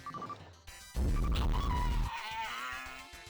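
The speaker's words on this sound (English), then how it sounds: "That is the sound of a dying, weird, broken texture Technicolor horse." A garbled, warbling dying-horse cry from a Sega Saturn light-gun shooting gallery arcade game, loud and dense with a crashing, distorted burst in the middle, backed by game music and effects.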